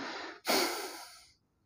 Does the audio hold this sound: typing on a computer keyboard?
no